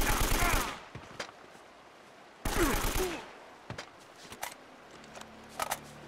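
An enemy's shotgun in the video game Uncharted: Drake's Fortune fires in two loud, harsh bursts a couple of seconds apart, followed by quieter scattered impacts and clatter.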